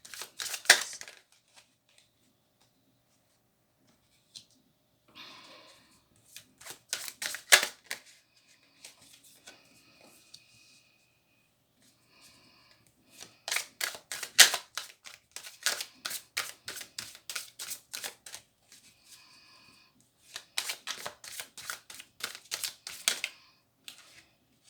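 Tarot cards are shuffled for a reading in bursts of rapid riffling clicks, alone and close, with pauses between rounds and no talking.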